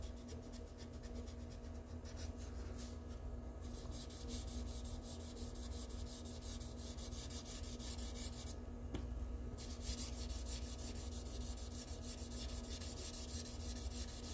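Wet sanding of AK primer on a Superbird car body, a quiet steady rhythmic rubbing and rasping that runs unbroken with brief pauses in the strokes.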